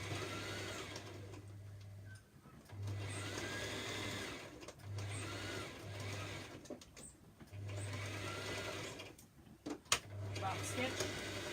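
A sewing machine runs in short bursts while back stitching a seam on a simple top, several brief runs separated by pauses, with some soft handling noise between them and speech present.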